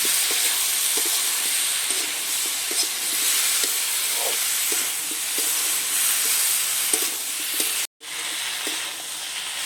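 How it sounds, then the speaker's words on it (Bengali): Pumpkin and shrimp being stir-fried in a pan, giving a steady, close sizzle with scattered stirring scrapes and taps, continuous for nearly the whole stretch apart from one brief dropout near the end. "এবারে বেশ সুন্দর করে একটু কষে নেব।"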